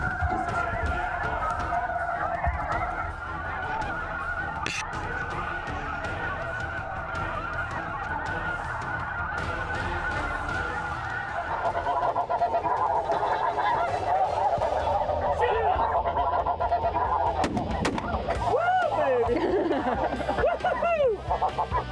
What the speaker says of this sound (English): There's snow geese right there.